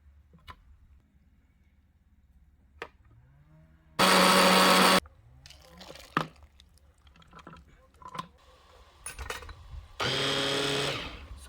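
Food processor whirring through tomatoes and garlic for a raw-sauce pickle, two loud bursts of grinding a few seconds long, separated by quieter handling clatter and taps.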